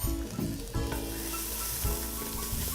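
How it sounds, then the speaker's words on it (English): Fresh grated ginger and cayenne pepper being stirred in a hot pot, a steady close sizzle of frying with scraping stir strokes throughout, no voices. "we're just gonna stir those around for 2 minutes to let their oils kind of bloom out"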